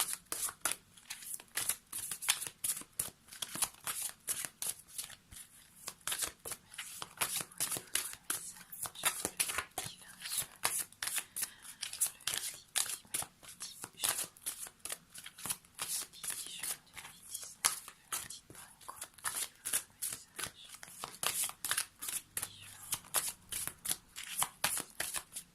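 Oracle cards are shuffled by hand continuously in a steady rhythm of soft riffling flicks and slaps, close and fairly quiet, with no talking.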